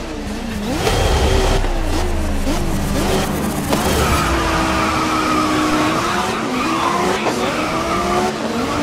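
Race cars launching at a race start in Grid 2019 in Shanghai, engines revving and climbing through gear shifts with tire squeal, a loud pack of cars accelerating together close by.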